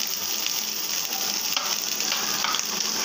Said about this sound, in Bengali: তারপর আমি শাক ভাজার জন্য পেঁয়াজ, রসুন, কাঁচামরিচ দিয়ে দেব